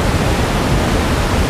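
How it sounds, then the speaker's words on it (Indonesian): Curug Muncar waterfall in Purworejo, a constant loud, dense rushing roar of falling water with no break or voices. "air terjun yang merupakan ikon dari Purworejo yang luar biasa keren"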